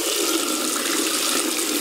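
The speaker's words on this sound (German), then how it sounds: "Bei uns kommen hier so circa 60 Grad heißes Wasser aus der Leitung." Hot tap water at about 60 degrees runs steadily from a faucet into a sink, a constant close splashing rush with no voices, heard while preparing to scrub budgie perches with a brush.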